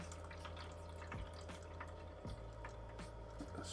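Spring water is poured into a Rcom Pro 20 incubator, with soft trickling and dripping heard close up and quiet, a few gurgles and drops landing in a steady flow.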